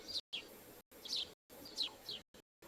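Small birds chirp in a backyard, giving a few quick, bright tweets in short bursts separated by abrupt silent gaps, heard alone without any talk.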